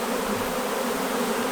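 A dense swarm of honeybees buzzes loudly and continuously as the colony is shaken and dumped into a box during a hive removal.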